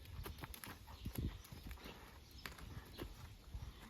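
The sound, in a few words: young horse's hooves walking around a circus pole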